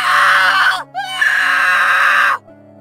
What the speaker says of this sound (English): The boy kept screaming for help, but no one turned up this time.